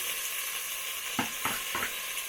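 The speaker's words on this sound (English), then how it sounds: "This is how we stir, guys." Onions and tomatoes frying in a pan in a village kitchen, a steady close sizzle with three scraping stirs of the spoon near the end.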